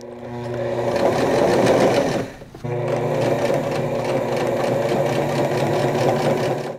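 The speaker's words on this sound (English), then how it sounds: "So I can finish top stitching along the shoulder here." A sewing machine runs steadily while top stitching along the shoulder seam of a button-up shirt sewn from a bed sheet, with a steady mechanical whir that pauses briefly partway through before resuming.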